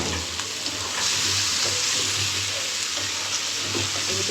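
Eggplant fries in hot oil in a pan while a Bengali pabda fish curry is cooked. The sizzle is loud and steady and crackles close up, with no talking.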